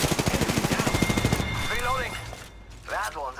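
Automatic gunfire in the Apex Legends shooter game: a fast, evenly spaced string of shots for about a second and a half, then quieter game effects and tonal chirps, with a voice heard underneath.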